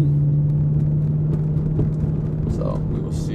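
A steady, loud drone from the muffler-deleted exhaust of an Audi A6 fills the cabin while the car cruises, with a constant low tone throughout and faint noises from inside the car near the end.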